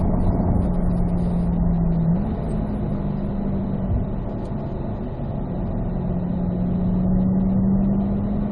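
A C8 Corvette drives laps on a race track, its engine a steady droning hum inside the cabin that dips slightly mid-run, then climbs again under light throttle.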